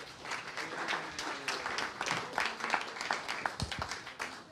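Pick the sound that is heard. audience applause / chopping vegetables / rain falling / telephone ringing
audience applause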